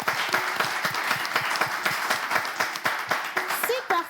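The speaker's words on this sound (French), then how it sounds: "On applaudit notre candidate." An audience claps and applauds for a 12-year-old schoolgirl contestant at a children's talent competition, a dense burst of clapping that continues steadily, with a voice over it.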